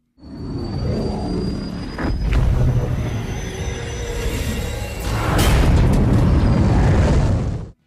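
A Scorpion tank in Halo fires its main cannon, with booming blasts about two seconds apart over a rumbling roar, the loudest and longest blast near the end before an abrupt cutoff.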